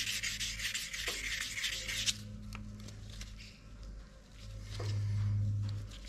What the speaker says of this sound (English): Bit of a polish.